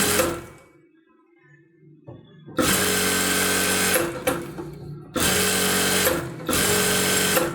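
A sewing machine stitching blouse fabric runs loud and close in long steady bursts, stopping briefly between runs, after a quiet start with faint handling noises.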